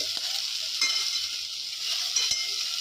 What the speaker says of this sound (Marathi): आता आपण यामध्ये ही शेपूची भाजी टाकत आहोत